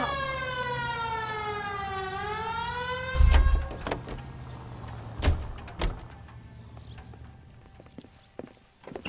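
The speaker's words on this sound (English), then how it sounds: "Hit the siren." In the L.A. Noire video game, a 1940s police car siren wails in rising and falling sweeps for about three seconds and then cuts off. Several loud thumps and clatters follow, with faint background noise.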